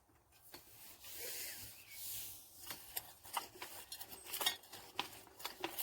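A speed hoe chopping and scraping through garden soil, giving a run of irregular, close scratchy strikes and rubbing noises with no talking.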